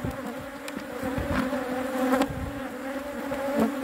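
Bees from a weak hive buzz loudly and continuously around an opened box during an inspection, a dense close swarm drone with individual insects flying past.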